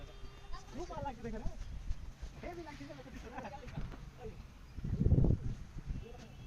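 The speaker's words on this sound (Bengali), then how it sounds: "ছাগলগুলো তো চলছে পাহাড়ের উপরে" Goats bleat several times on a hillside in light rain, short wavering calls close by, spaced irregularly, followed by a brief low rumbling burst near the end.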